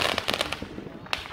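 Fourth of July fireworks bursting outdoors in a quick run of crackling pops with one sharper bang near the end, fairly close and loud.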